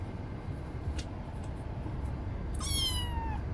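A newly adopted kitten gives a single high, rising-then-falling meow near the end, clear and close against a low background hum with faint traffic-like rumble.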